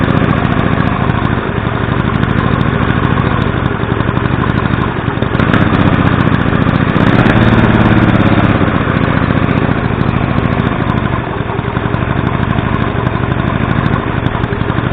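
A Mini Hog small engine idles steadily and loudly up close during carburetor adjustment, its buzzing note briefly rising around the middle before settling back to an even idle.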